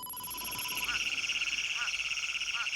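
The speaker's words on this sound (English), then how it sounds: "the spadefoot toads call to each other to advertise their availability" Spadefoot toads call at a desert breeding pool, a dense, steady high-pitched trilling chorus that carries on without a break, with a few louder individual calls rising over it at regular intervals.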